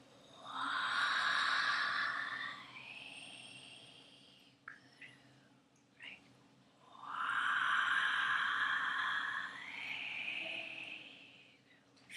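Two long, breathy exhales during a Waheguru breathing meditation, each a drawn-out airy whoosh lasting a few seconds, close and steady, separated by a short quiet pause with faint clicks.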